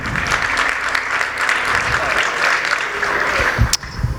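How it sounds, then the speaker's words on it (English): An audience at an ng-conf 2016 StarCraft tournament applauds a player. The clapping is steady and fairly loud across the whole stretch, with a voice talking over it and a sharp knock near the end. "Can I get a round of applause for Hurricane,"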